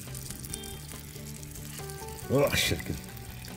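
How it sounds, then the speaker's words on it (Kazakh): Oil heated in a frying pan sizzles in a steady crackle, with a short louder burst of hissing near the end, while a person briefly speaks and exclaims close by. "Табаға майды құйып қыздырып қойдық."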